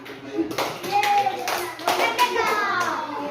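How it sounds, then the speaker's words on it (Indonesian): Children clap together in a classroom, a scattered burst of hand claps from near and far, mixed with children's chatter and voices throughout. "Oke, tepuk tangan."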